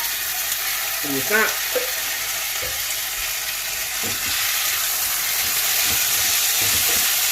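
Pureed garlic sizzles and spits in a hot paella pan, a loud continuous frying hiss with sharp pops throughout, and a voice speaks briefly near the start.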